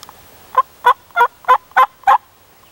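A wild turkey gobbler calls from the clearing in a rapid series of six sharp, clucking gobbles, evenly spaced and fairly close, with quiet woods between each note.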